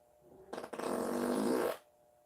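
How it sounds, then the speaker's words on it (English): A single loud, drawn-out fart of about a second and a quarter, sputtering at the start and then holding a steady raspy buzz before cutting off, close up with no talking. "Who's got to blow a huge fart"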